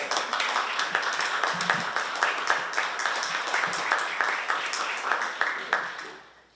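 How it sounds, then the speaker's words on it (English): An audience claps steadily for about six seconds at a joint press conference held by West Virginia Gov. Justice and State Treasurer John Perdue, a dense, even round of applause that thins and fades at the end. "I think we need to clap for that"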